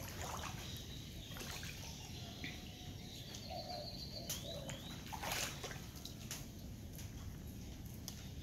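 Quiet trickle of floodwater during heavy flooding in El Salvador, soft dribbling and small splashes with birds chirping and calling intermittently in the background.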